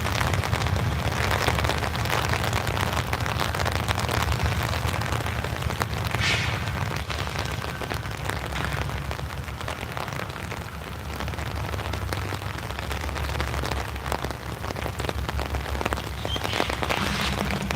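Heavy rain pours down beside a railway track, a dense continuous hiss with gusty low wind rumble that swells and eases throughout.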